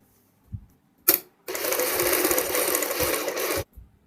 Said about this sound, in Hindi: दूसरी सिलाई हम ऊपर की साइड लगाएंगे, सेम यहाँ पे दूसरी सिलाई भी किनारे की साइड लगाएंगे।